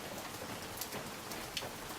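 Steady rain pours down at a funeral, a dense even hiss with scattered sharper drops and no voices.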